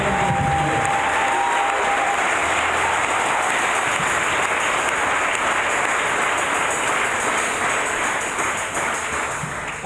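A church congregation applauds and cheers for Jesus in a loud, steady wall of clapping that holds for about ten seconds, with faint crowd voices underneath.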